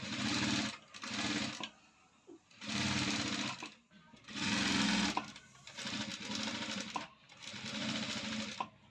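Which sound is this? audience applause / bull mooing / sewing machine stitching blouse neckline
sewing machine stitching blouse neckline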